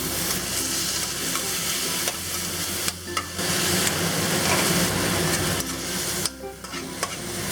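Beef sizzles loudly as it is stir-fried with dark soy sauce in a pan, a dense continuous hiss with brief dips and the scrape and clatter of stirring.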